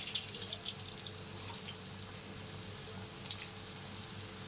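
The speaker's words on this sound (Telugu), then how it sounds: "ఆయిల్ బాగా వేడెక్కిన తర్వాత సిమ్లో పెట్టుకొని వేయించుకోవాలండి" Pieces of amaranth leaf frying in well-heated oil on low heat, giving a steady, soft sizzle and crackle with small scattered pops, close by and without talk.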